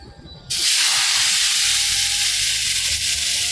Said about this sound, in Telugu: ఎండి రొయ్యలు అయితే వేసుకొని వేయించుకుందాం దోస్తులు నూనెలో